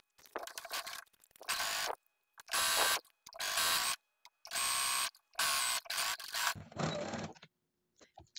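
A sewing machine stitches a thick bias strip of upholstery fabric in repeated bursts of rapid mechanical whirring, about six runs separated by short pauses, close and alone.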